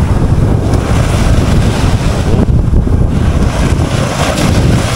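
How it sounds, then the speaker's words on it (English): Big ocean waves roar onto a beach with gusting wind buffeting the microphone, a loud, unbroken wash of surf close by. "Lalaki ng waves."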